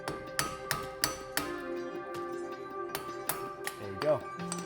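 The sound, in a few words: hammer hitting car brake rotor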